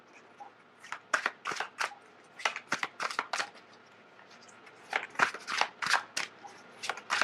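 Tarot cards are shuffled close up in repeated quick riffling bursts, crisp papery flutters in uneven clusters with brief pauses between them.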